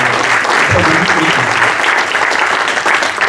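Loud, continuous audience applause fills a Communist Party political meeting in La Chapelle-Saint-Aubin, a dense steady wash of many hands clapping with a faint murmur of voices beneath.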